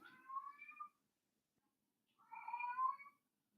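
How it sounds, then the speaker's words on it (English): Two distinct cat meows, each a drawn-out cry of about a second, separated by near silence and heard fairly faintly. "Cats are fucking meowing like crazy."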